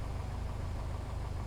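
Piper Cherokee light aircraft engine idling while taxiing in a Flight Simulator X game, a steady low mechanical drone with even vibration and no voices.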